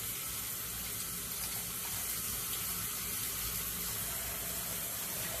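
Tap water running steadily into a sink while a fountain pen nib and feed are rinsed, a soft even hiss and splash with no talking.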